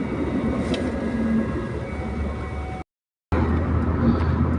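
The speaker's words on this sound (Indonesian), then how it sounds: "ini di pemberhentian kereta ada kereta lewat" A train rolls past a railway stop in Ciawi, Tasikmalaya, West Java, its loud steady rumble of wagons continuous and close, broken by a brief cut before the passing resumes.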